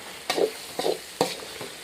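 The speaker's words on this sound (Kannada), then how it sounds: "ಇದಕ್ಕೆ ಇವಾಗ ಚೆಂದಾಗಿ ಮಿಕ್ಸ್ ಮಾಡಂಬ್ರಿ." Soaked poha (flattened rice) is stirred in a pan with three or four quick, close scraping strokes, each a short rustling swish over a faint sizzle.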